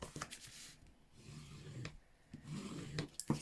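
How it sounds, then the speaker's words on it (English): A folded paper card is burnished by hand, making soft, quiet rubbing and scraping strokes in short irregular bursts, close up and with no voices. "But I'm just going to burnish it that way rather than burnish it onto the card."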